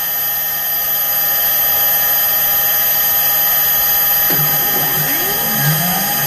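A CNC mini mill running steadily with a high whine, its cutter biting into a part to make clearance, a rougher scraping cut joining in near the end.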